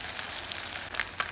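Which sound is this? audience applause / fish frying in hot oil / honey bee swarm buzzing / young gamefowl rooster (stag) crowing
fish frying in hot oil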